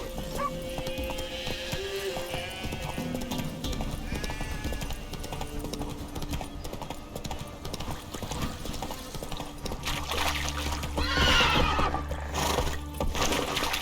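Roach, Geralt's horse in The Witcher 3, clip-clops steadily along under a dense bed of game music, a whinny rising near the end.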